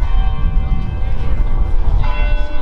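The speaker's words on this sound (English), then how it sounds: "Those bells are from the City Hall building." Bells from a City Hall building ring out over an outdoor vigil, a loud, sustained metallic tolling with lingering resonant overtones and a low rumble of street noise underneath.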